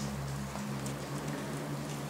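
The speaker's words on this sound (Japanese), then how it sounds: "一日雨ですね。" Steady rain falling all day outside a home, a dense, even hiss of drops that never lets up, over a low constant electrical hum.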